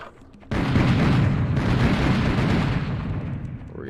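Gunfire at enemies in Serious Sam VR: Second Encounter erupts suddenly after a brief quiet start into a loud, sustained roar of blasts and booms that slowly thins toward the end.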